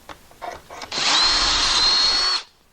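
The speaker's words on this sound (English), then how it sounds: "and then drill your holes" A power drill bores holes in wood for drawers, with a few short handling knocks followed by a loud, close, sustained whirring run of about a second and a half that then stops abruptly.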